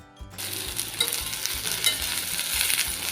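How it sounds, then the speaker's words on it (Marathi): Okra sautés in hot oil, a loud, steady frying hiss with stirring scrapes and soft knocks from the spatula against the pan, starting abruptly after a brief quiet moment. "एखाद दोन मिनटं आपल्याला व्यवस्थित असे हे भेंडे आहेत हे तेलावर परतवून घेते"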